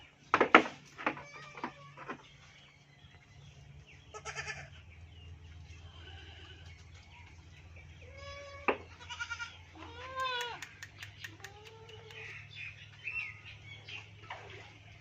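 A goat bleats several times in short, wavering calls, close and fairly clear, as it is being treated with an injection. Birds chirp faintly in the background between the bleats.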